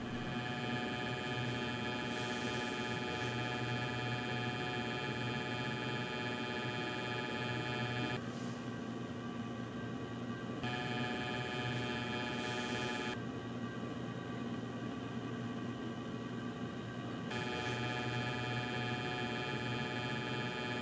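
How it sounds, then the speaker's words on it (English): Low-speed motor hum from a model locomotive fitted with an ESU LokSound 4 sound decoder, a steady mechanical drone with faint ticking that continues without a break for about twenty seconds, with no voices. "This humming noise was one of the big complaints by LokSound 4 users"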